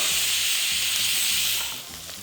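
Sliced onions hit hot oil already seasoned with cinnamon, cloves, cardamom and fennel, setting off a loud, close, steady hissing sizzle that softens slightly toward the end.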